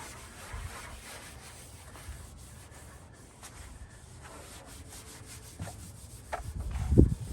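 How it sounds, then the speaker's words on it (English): Faint, continuous rubbing of sandpaper over a truck cab before its top coat, steady strokes throughout, ending with a louder bump or handling knock near the end. "doing a final sand before top coat on the cab"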